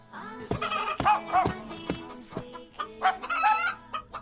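A cartoon rooster clucks repeatedly up close, a series of sharp, throaty calls in an uneven rhythm, loud and clear.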